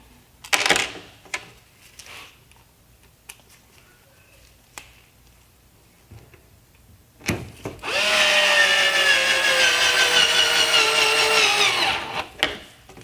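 A power driver runs a Torx screw into a BMW X5/X6 headlight mounting tab during a repair: scattered clicks and taps, then a loud, steady motor whir of about four seconds that winds down to a stop.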